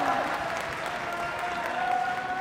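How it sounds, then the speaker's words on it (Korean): Audience applause at a K-pop girl group's performance at an opening ceremony in Gyeongju, a steady wash of clapping from a crowd with a faint sustained tone underneath. "박수 쳐주신 여러분 너무너무 감사드리고요"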